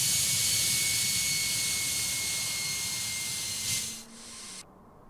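Steady jet engine roar with a thin high whine from a Ryanair Boeing 737 in a European airport tower simulator game, loud and constant before dropping off and cutting out near the end.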